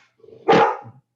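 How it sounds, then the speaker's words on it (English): Golden retrievers let out a single loud bark, preceded by a brief low grumble and trailing off into a soft whine, fairly close outdoors. "I've got some golden retrievers in the background having a bark"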